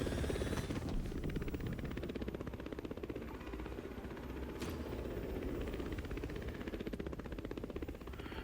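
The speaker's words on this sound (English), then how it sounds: "we're in a helicopter and he's in the car" Helicopter flying in the racing video game The Crew Motorfest, a steady rapid rotor chop over a dense engine drone, continuous and even throughout.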